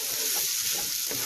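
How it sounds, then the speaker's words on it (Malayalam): Tomato sautéing in a pan for vegetable fried rice gives a steady, close sizzle with soft stirring scrapes throughout a short stretch, and no voices. "ടൊമാറ്റോ കൂടെ ചേർത്ത് 5 മിനിറ്റ് നേരം വഴറ്റാം"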